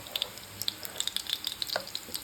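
Tuna kebabs pan frying with crackling pops and sizzles, many small bursts scattered across the short stretch, close by with no talking.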